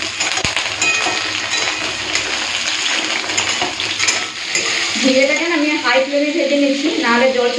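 Ridge gourd frying in mustard oil, a dense close sizzle with stirring and scraping against the pan throughout, while a voice talks over the cooking in the final seconds.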